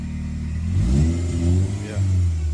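A BMW E36 with an electronic valve exhaust revs its engine, rising and falling in two strong pulls, loud and close, with a deep throaty exhaust note.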